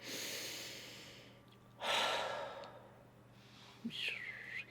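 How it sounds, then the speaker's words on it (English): Deep belly breathing, a long slow inhale through the nose followed by a heavy, airy exhale, close and alone with a faint background hum. "it's breathing in deeply and allowing your tummy to come out on the in-breath"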